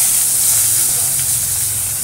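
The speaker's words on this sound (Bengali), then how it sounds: "কালো জিরে ফোড়ন দিয়ে দিয়েছি তেলে" Black cumin seeds sizzling in hot oil in a pan where fish was just fried, a steady bright hissing crackle, loud and close, with no talk over it.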